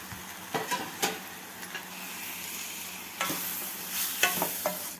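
Masala paste with potatoes being fried and stirred in a pan, a steady low sizzle broken by intermittent close scraping and clanking strokes of the spoon against the pan.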